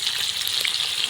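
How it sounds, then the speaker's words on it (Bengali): Bhola fish sizzles and crackles in hot oil, a brief, bright, continuous frying hiss heard close up with no talk. "মাছ ফুটছে।"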